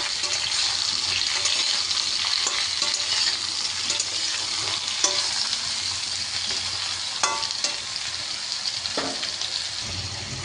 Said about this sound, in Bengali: ঝিঙেগুলো দিয়ে আমি একটু ভাজবো আরও